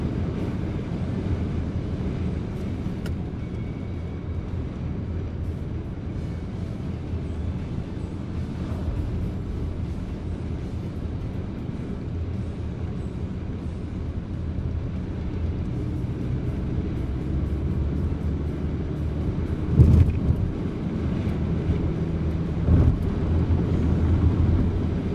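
Cabin of a 2017 Subaru Outback with a 2.0L diesel engine and Lineartronic CVT cruising at about 160 km/h: a steady broadband road and wind roar with a constant low engine drone and no talk.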